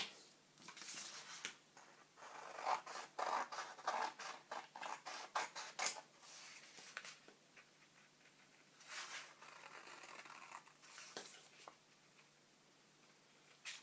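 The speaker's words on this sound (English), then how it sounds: "So you can see what we're doing, cutting around the outline, including these little tabs." Scissors snipping around the outline and small tabs of a paper globe template in an arts journal craft, a quiet, close, irregular series of crisp cuts and paper rustles, with pauses between bursts.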